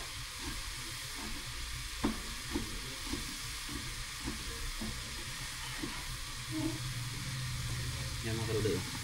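Ingredients with chili peppers sizzle steadily in a frying pan while a spoon stirs through them in repeated scrapes, with a voice speaking over the cooking throughout.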